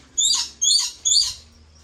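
Parrots of several kinds at an aquarium in Kokan give three sharp, raspy screeching calls in quick succession, close and fairly loud over a low background hum.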